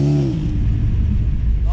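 A Ford Fiesta or Plymouth Satellite launching hard at a drag race, its engine note sweeping up loudly at the start and again at the end, with a rough low rumble between and brief voices nearby.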